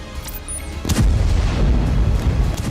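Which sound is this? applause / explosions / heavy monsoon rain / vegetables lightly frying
explosions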